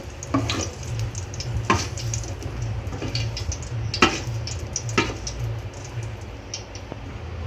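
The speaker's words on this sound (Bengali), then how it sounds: "রাইসের জন্য ক্যাপসিকাম, বিনস, গাজর হালকা একটু তেলে ভেজে নেব।" Capsicum, beans and carrot frying in a little oil in a pan, a steady sizzle with sharp scraping stirs of a spatula at irregular intervals, close and moderately loud.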